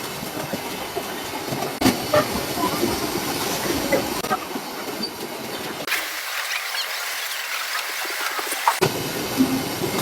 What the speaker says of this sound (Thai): ทอดทีสองกระทะ